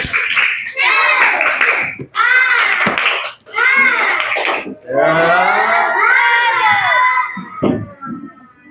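A class of students in Indonesia does a rhythmic patterned spirit clap, voices chanting along loudly throughout in bursts, with a short final clap at the end.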